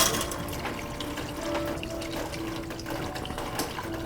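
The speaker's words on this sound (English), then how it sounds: "it's dripping from up top" Water leaks inside a wall while the shower runs, producing a steady close splashing flow with faint drips layered in, continuous and unaccompanied by speech.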